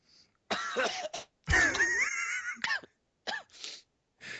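Harsh bursts of coughing and throat clearing from one person nearby, a rough strained stretch in the middle, then a few shorter coughs.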